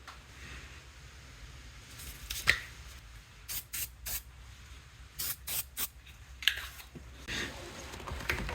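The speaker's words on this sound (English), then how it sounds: "then we'll be ready to spray the terminal protection on it" Aerosol terminal protection spray hissing onto the battery terminals of a BigHorn 550 EFI UTV side by side, several short bursts between quiet handling clicks in a workshop.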